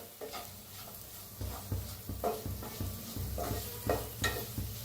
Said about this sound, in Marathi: आता ह्याच्यात जो मसाला आपला उरला होता ते बी भाजून घेऊया